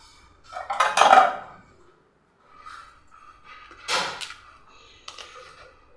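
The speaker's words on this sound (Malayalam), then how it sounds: "ഇനി നമുക്കിതിലേക്ക് നമ്മുടെ ഈ ഒരു ജെല്ലി ഇട്ട് കൊടുക്കാം" Jelly being spooned into a glass for a cold drink makes a few clinks and scrapes of a spoon against the glass, in two or three short, close bursts separated by quiet.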